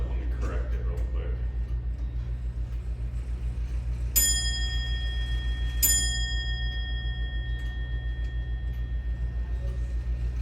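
Two bright, resonant strikes on the cast bell of an antique English two-weight grandfather clock sound a second or so apart as it is corrected, each ringing out over a constant low hum, with a voice talking at the start.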